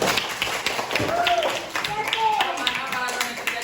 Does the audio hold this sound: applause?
yes